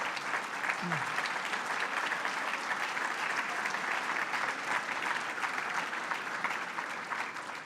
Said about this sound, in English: If you'd all give him a round of applause for joining us.